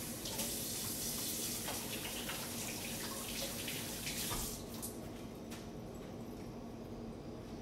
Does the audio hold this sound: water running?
yes